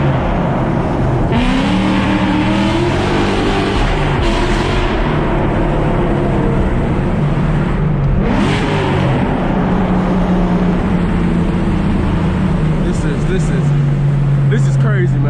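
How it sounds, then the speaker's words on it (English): A loud Ford Mustang GT V8 engine roars and drops through gears under hard acceleration, revs rising and blipping between sharp downshifts, close by, with speech occasionally over the rumble. "just listen to these downshifts."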